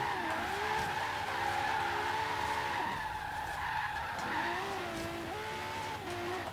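A supercar with a twin-turbo 6-liter V12 drifting in the racing game Forza Horizon 3, continuous loud tire squeal layered over a steady engine drone, sustained for the whole stretch.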